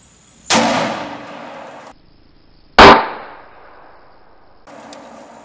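Two sharp 10 mm pistol shots fired outdoors a couple of seconds apart, each a loud crack followed by a short decaying echo, with no talking.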